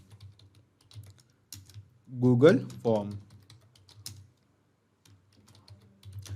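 Fingers tap a computer keyboard, typing a name for a Discord webhook; quick clustered keystrokes come close up, with someone speaking over part of the typing.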